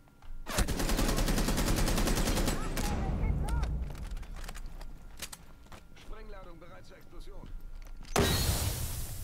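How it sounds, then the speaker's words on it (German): Rapid automatic gunfire in Rainbow Six Siege, fired blind through smoke, rattles in a loud sustained burst, then scattered single shots and another loud burst near the end, with a player talking over it. "Blind durch den Nebel geschossen."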